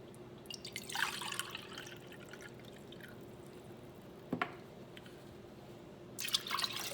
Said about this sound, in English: To this I will add 2 full cup water, 250 ml.